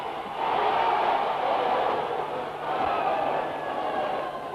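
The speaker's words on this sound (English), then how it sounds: "Listen to the crowd. They're going wild." A large crowd at a 1970s professional wrestling event roars steadily and loudly, a dense sustained cheer with swells and no clear voices standing out.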